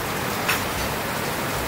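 Heavy rain falling as a continuous, even hiss of drops on surfaces, fairly loud and close, with no voices.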